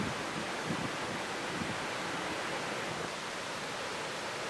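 Water pours down steadily at an Icelandic waterfall, a constant broad roar of falling water close by, with no voices.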